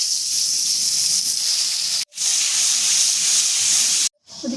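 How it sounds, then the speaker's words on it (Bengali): Pointed gourd (potol) pieces frying in hot oil in a wok, a loud, steady, close hiss that cuts off abruptly twice and then resumes, with no voices. "আমি এবার গরম তেলে পটলগুলো ভেজে নেব।"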